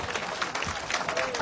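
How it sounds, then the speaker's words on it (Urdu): A crowd at an iftar gathering for political party workers applauds the organizing team, a dense, steady clapping that sounds moderately close and continues through the short moment. "ان کے لیے زوردار تالیاں بجائیں پوری آرگنائزنگ ٹیم کے لیے"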